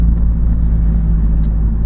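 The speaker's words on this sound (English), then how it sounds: "when you are engine braking, that is my favourite sound" A Honda Civic Type R FN fitted with a resonated Cobra sports exhaust engine braking off the accelerator, a loud, steady low exhaust rumble and drone, heard close up.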